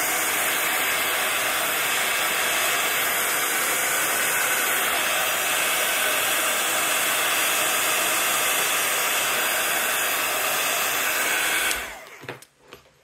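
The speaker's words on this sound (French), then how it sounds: "un sèche-cheveux, parce que là c'est juste pour accélérer le séchage" A hair dryer drying a damp book binding blows with a loud, constant whir close by for several seconds, then switches off and falls quiet.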